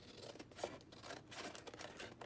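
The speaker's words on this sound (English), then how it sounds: "I'm gonna cut the bottom of the bag off." Scissors cutting through a paper gift bag to trim off its bottom, a close, quiet run of snipping and crisp paper rustle alone for a couple of seconds.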